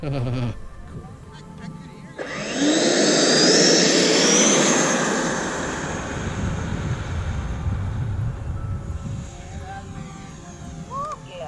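A small FMS Yak-130 model jet roars in loudly, whines overhead for several seconds, then fades to a distant hum.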